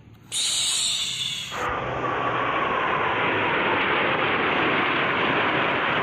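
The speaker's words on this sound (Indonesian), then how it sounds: "ini pesawat tempur double decker teman-teman. Ayo teman-teman, kita terbangkan." A blue double-decker toy fighter plane in flight gives off a loud, steady whooshing hiss that starts abruptly and carries on unbroken, with a high tone early on and no talking.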